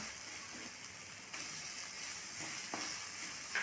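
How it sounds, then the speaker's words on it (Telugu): Tomatoes frying with ginger-garlic paste for an okra masala curry, giving a faint, steady hiss of sizzling oil with a few light stirring scrapes, and no voices. "ఒక రెండు నిమిషాలు టమాటాలని మగ్గనివ్వాలి"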